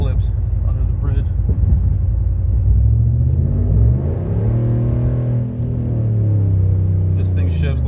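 Ram 1500 truck with Doug Thorley 1 3/4 catless headers, a deep engine and exhaust rumble that swells as it revs up and then settles, heard continuously from close by under speech.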